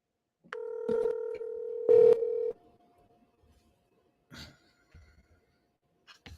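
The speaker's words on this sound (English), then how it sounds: "So I'm gonna call you on my phone, and I'm gonna do it that way." A phone being dialed: a steady tone runs through a few short keypad beeps, then quiet with faint clicks and a soft cough-like noise, and no talk.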